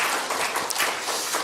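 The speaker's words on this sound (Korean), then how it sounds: "부끄러우니까 저기 있다 생각하시고 환영의 박수 하겠습니다." A church congregation claps in welcome during a Friday worship service, a brief burst of many hands applauding together at moderate volume with no talking over it.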